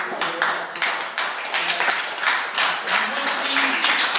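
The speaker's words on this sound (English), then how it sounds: "you need to applaud your parents because they love you" An audience applauds parents at a presentation, dense, steady clapping from many hands that holds at an even level throughout, with no voices over it.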